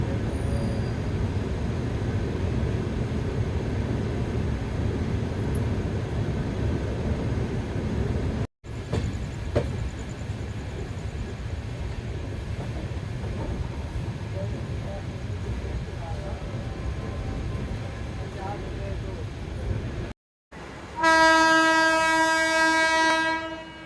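The Mau Express 15026 rolls through the night with steady loud rail rumble and wheel clatter, then a sharp, sustained horn blast near the end, and a voice talks over it.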